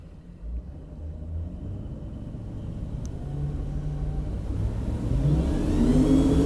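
Twin Mercury Racing 500R V8 outboard engines power a boat through a hole shot, a steady rising engine rumble and whir that builds in loudness over several seconds with no talk.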